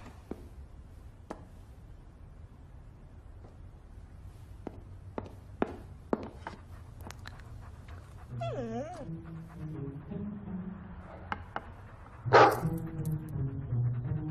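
Dog in a house in a French family Christmas film, scattered sharp barks and knocks followed by a stretch of whiny, wavering whimpering and a louder yelp near the end.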